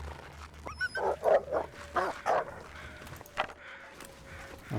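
Wolves in the survival video game The Long Dark give a few growling, yelping calls in short bursts over a low rumbling ambience, moderately close and with no talk over them.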